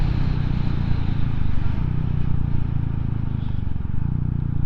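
A Royal Enfield 350 motorcycle ridden at speed along a dual carriageway, near 70 mph, gives a steady, loud, low engine drone mixed with heavy wind rush, constant throughout with no talking.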